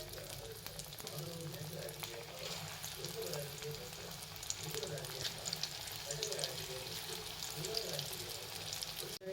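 Corn bajji fritters frying in hot oil over a medium flame, a steady bubbling sizzle that runs continuously at moderate level with faint kitchen clatter.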